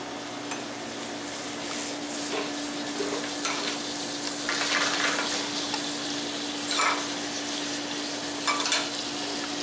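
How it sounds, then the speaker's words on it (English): Cremini, king oyster, oyster and shiitake mushrooms with chopped garlic sizzle in a pan of butter and olive oil, a steady close frying hiss with occasional stirring scrapes and no talking. "So we're going to add a little bit more olive oil so they start sauteing nice and even."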